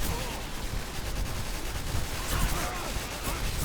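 Dense, sustained gunfire from the video game Call of Duty 4 Modern Warfare: continuous overlapping shots and blasts that form a steady wall of battle noise throughout, with no clear pauses.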